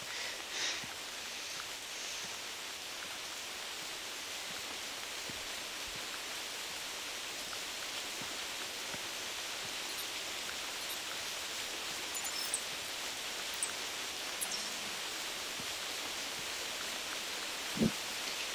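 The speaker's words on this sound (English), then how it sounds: "rain in the rainforest" Steady rain in a rainforest in the video game theHunter Classic on the Piccabeen Bay map, a dense even hiss of falling water that continues unbroken, with a couple of faint knocks near the end.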